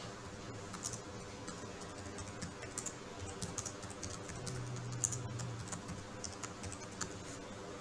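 Soft, rapid clicking of keys on a computer keyboard, steady and close, with irregular bursts of taps and no voices.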